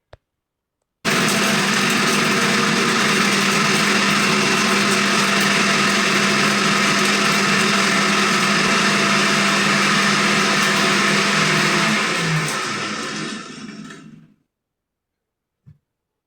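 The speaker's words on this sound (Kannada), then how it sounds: "ಮಿಕ್ಸಿ ಮಾಡ್ಕೊಳ್ಳಿ." A kitchen mixer grinder whirs loudly and continuously for about thirteen seconds while blending green chilies into a fine paste for chicken ghee roast, then winds down to silence.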